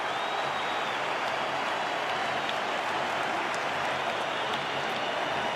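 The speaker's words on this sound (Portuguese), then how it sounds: "Para você ouvir a reação da torcida do Grêmio. Aplausos para o goleiro." Grêmio fans in a football stadium applaud their goalkeeper during a Brazilian championship match against Corinthians, a steady, dense wash of crowd clapping that holds evenly from start to finish.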